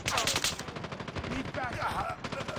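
A sentry gun fires in the Call of Duty Mobile video game, a rapid, continuous burst of automatic gunfire with a few faint voice callouts underneath.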